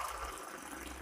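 Water poured into a pot for cooking biryani rice, a brief, soft, steady gushing and splashing stream heard at close range with no voices.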